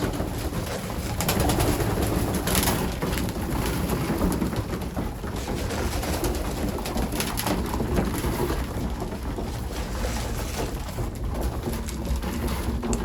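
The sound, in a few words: many pigeons on a loft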